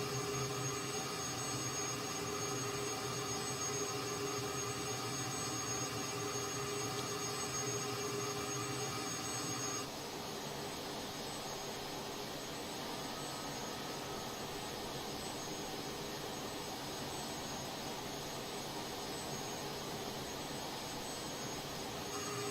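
Military jet aircraft in a flight video game, a steady whining turbine roar holding constant for a long stretch, shifting tone midway as thrust changes, with no voices.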